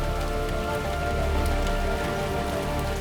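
Steady rain falls throughout on an outdoor surface at night, a dense even patter of drops with no talk, from a drama scene.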